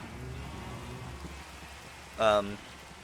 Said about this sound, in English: Can it stop raining? It's lagging on my game so badly.